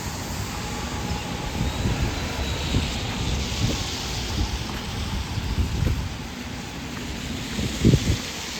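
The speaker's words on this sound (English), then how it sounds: "Yeah, the rain's coming down a bit." Steady rain hisses outdoors on Church Street with a wash of distant traffic, a constant broad patter with a few louder thumps near the end.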